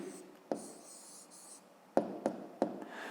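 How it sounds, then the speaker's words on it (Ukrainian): A pen writes an answer by hand on paper for a fifth-grade math exercise, giving soft close scratching strokes with a few sharp taps and pauses, no voice heard. "Ну що ж, ну а зараз записуємо відповідь. Пишемо відповідь."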